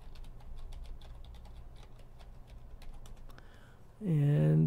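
Light, quick key taps on a computer keyboard as a password is entered, a soft irregular patter of clicks close by, ending with a short burst of louder sound at the finish.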